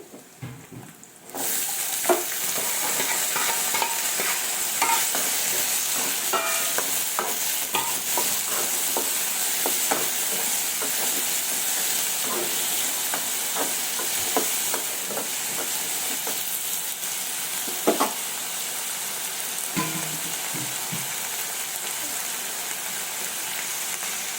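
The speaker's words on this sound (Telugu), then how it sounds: "ముక్కలుగా చేసుకుని ఇలా ఆలుని ఇలాగా వీటిలో వేసుకోవాలి" Potato pieces for an aloo fry sizzle in a hot pan, a continuous close hiss broken by repeated scraping and stirring clicks, with no talk.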